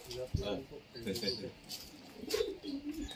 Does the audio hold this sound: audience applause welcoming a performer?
no